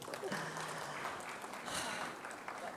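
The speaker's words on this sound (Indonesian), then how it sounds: "Tepuk tangan." Applause at a popular-brand awards event, a steady, fairly distant wash of clapping from the audience throughout, with faint voices mixed in.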